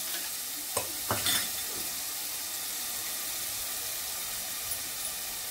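Spices tempering in hot oil for a crab curry, a soft steady sizzle with a couple of brief louder bursts early on, close by, with no talking.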